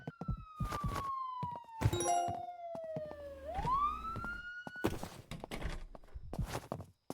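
A police siren wails in the Crime Simulator video game, sweeping down in pitch and then rising again, loud and close, with footsteps and soft thuds around it.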